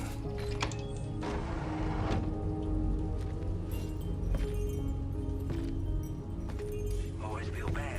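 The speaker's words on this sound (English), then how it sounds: "Always feel bad having people trudge through the rain." Rain falls in the video game Death Stranding 2, a steady patter and hiss across the whole stretch with scattered sharper drops and faint tonal game sounds beneath.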